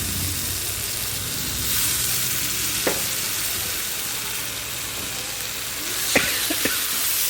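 Potatoes cook in a pan for a Marathi batata vangi rasa. They give a steady broadband sizzle with a few faint stirring clinks near the end and no talk.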